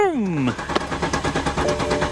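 A car engine cranks but fails to start. A falling whine opens the clip, followed by a quick rhythmic chugging of the starter turning over, with voices talking nearby.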